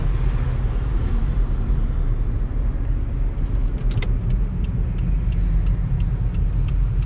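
A car drives in extreme Yakut cold at -49 degrees, its steady engine and road rumble loud and continuous with faint clicks near the end.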